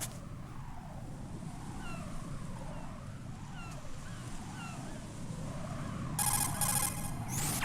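A cell phone rings in Metal Gear Solid 2: Sons of Liberty, a short electronic chirp over steady game ambience of water and low rumble, growing louder near the end of the passage.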